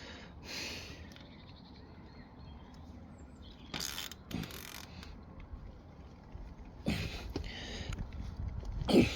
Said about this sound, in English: this is not a bad ratchet for the price that it costs.